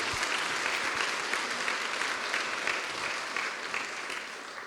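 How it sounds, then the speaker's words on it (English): Sustained applause from a large audience at a Kunsthal Rotterdam masterclass, a dense steady wash of many hands clapping that fades slightly toward the end. "So please, if we can just applaud Emily for this"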